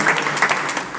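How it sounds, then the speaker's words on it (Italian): Applause rises from a theatre audience at an onstage event, a short burst of dense clapping heard alone without any voices. "Quindi facciamo un bellissimo applauso ad Antonella."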